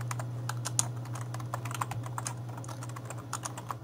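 Rapid, continuous computer keyboard typing as a console command is entered for Portal 2, dense clicks close to the mic over a constant low electrical hum, no voices.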